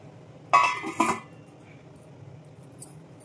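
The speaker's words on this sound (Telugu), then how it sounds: "శనగలు అన్నీ ఇప్పుడు ఒకసారి మూత పెడదాము." A metal lid is set on a pot of brown chickpea and brinjal curry, giving two bright clanking knocks close up, followed by quiet background.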